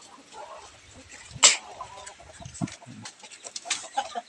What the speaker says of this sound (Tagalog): May 6 na bagong sisiw.